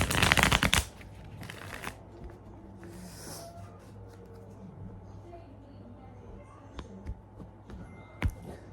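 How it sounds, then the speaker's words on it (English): A quick riffle of tarot cards being shuffled at the start, followed by quiet rustles and a few soft taps of cards. "All right, last shuffle"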